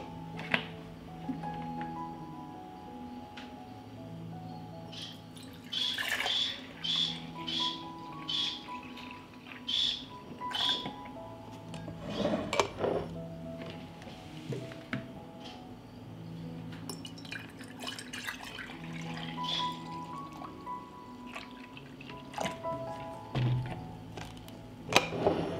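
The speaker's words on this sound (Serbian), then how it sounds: "Mleko ću sipati u čiste i oprane tegle." Farm milk is poured into clean, washed glass jars, with intermittent liquid trickles, drips and glassy clinks and thunks spread over a long stretch, no talking.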